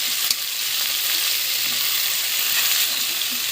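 Cabbage being stir-fried in a pan, a loud, close, continuous sizzle with a few soft stirring knocks underneath, no voices.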